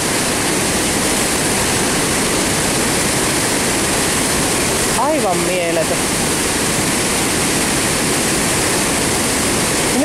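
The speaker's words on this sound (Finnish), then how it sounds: "Ja nuo kuohut, miten se tyrskyää tuossa." Fast-flowing river rapids surge and churn over rocks in a steady, loud roar that fills the whole clip, with a short spoken remark breaking in near the middle.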